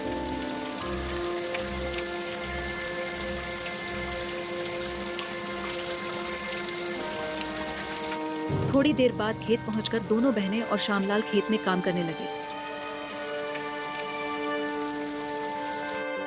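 Heavy rain pours steadily over a farm field, a constant loud wash of drops that runs under a narrator speaking throughout.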